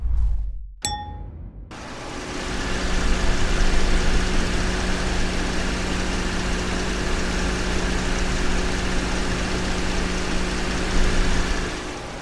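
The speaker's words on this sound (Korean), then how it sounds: "엔진 소리 정확하게 한번 들려드리도록 하겠습니다." A 2018 Genesis EQ900 3.8 four-wheel-drive sedan idles with its hood open, a steady low hum and even mechanical whir running throughout after a brief ding at the start.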